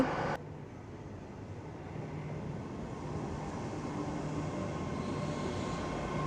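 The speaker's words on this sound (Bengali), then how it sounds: "আমাদের ট্রেন ঢুকে গেছে প্ল্যাটফর্মে" A high-speed train pulls into a London platform with a soft, steady rumble of rolling carriages. It grows slightly fuller partway through and is heard faintly from the platform.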